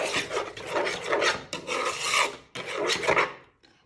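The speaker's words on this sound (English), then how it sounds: "I recommend scraping down the edges in case you've lost any there." A spatula scrapes around the inside of a mixing bowl holding a rib marinade with soy sauce, making three close, rasping strokes separated by brief pauses.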